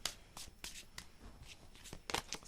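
Tarot cards being shuffled by hand, with a series of quick, crisp riffling bursts at an uneven rhythm, close and fairly quiet.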